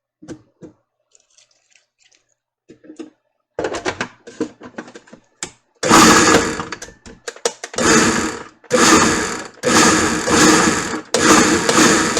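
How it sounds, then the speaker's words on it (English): A food processor pulsing and chopping raw vegetables for piccalilli relish: a few quiet taps and clatters first, then loud, rough whirring bursts that start and stop in a repeated pulse rhythm. "you are just going to pulse and chop all of your raw vegetables"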